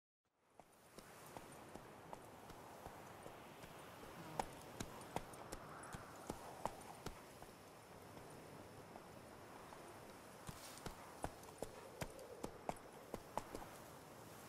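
A horse's hooves clip-clop at a steady walking to trotting pace in The Witcher 3, distinct thuds over a quiet outdoor ambience, moderately close and without talk.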